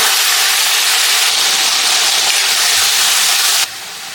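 Onion paste dropped into hot mustard oil with cumin, sizzling loudly and close as a dense, continuous hiss that drops off sharply in level near the end.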